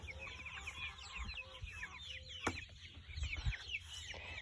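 Broiler chickens in a chicken tractor cluck and chirp softly close by, a busy overlapping chatter of fowl calls with a few faint thumps, quiet outdoors in the morning.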